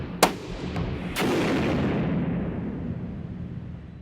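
Two sharp rifle shots fired in an underground test range, the second followed by a long booming echo that rolls on and slowly decays in the enclosed space; no talking.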